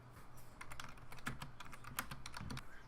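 Quiet clicking of typing on a computer keyboard, a quick irregular run of keystrokes with a few sharper taps, close and faint, with no voices.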